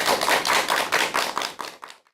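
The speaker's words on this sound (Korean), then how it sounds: "큰 박수 부탁드립니다." Audience applause at a Korean lecture as a psychiatrist speaker is introduced: a dense burst of many hands clapping, loud at first, then thinning and fading out over about two seconds.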